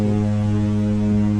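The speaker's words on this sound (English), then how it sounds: "I want to press the foghorn button." A button press sounds the foghorn on the Carnival Firenze cruise ship, a loud, deep, steady tone that holds for the whole moment without a break.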